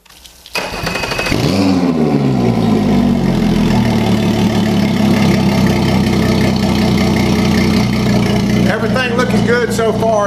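A 2019 Mercury Pro XS 175 outboard idles at a steady, close, loud drone that starts up in the first second and holds evenly, with a faint rise at the very end.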